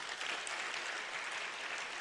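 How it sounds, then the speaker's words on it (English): An audience at a corporate social responsibility conference gives a short round of applause for a charitable foundation, a faint, even wash of clapping with no talk. "Please, they deserve a fantastic round of applause."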